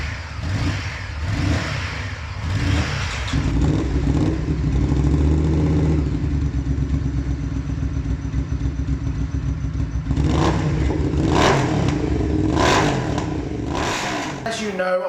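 A Honda Firestorm motorcycle revving through new exhausts, a loud close-up engine rising and falling in repeated throttle blips over a steady idle, with a voice talking over it.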